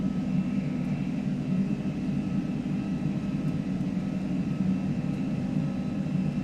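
Aerosoft A330 jet engines in the Prepar3D flight simulator, giving a steady, loud, broadband roar with low engine drone as the aircraft sets takeoff thrust, without speech.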